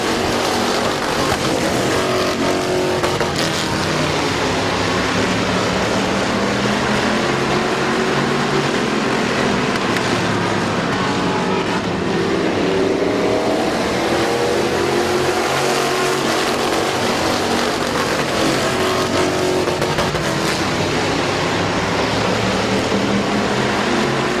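Race cars at Midvale Speedway, a racing event, roar steadily around the track for the whole stretch, with continuous loud engine noise and the rise and fall of cars passing close by.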